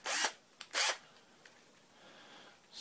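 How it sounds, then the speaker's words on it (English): A Hitachi DS10DFL cordless drill spins in low gear in two short, close whirring bursts, followed by near silence with faint small handling noises. "I can just spin this in low gear."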